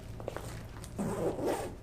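The zipper on a compartment of a BLS medical response bag being pulled open, a short rasping zip after some faint handling clicks, close up and without talk.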